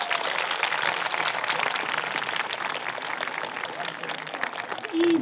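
An audience at an award ceremony applauds with dense, steady clapping that carries on without a break, and a voice comes in briefly near the end.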